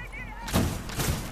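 A grenade goes off in a first-person shooter video game as a short burst of blasts with low rumble, loud and close, following a brief tonal game sound.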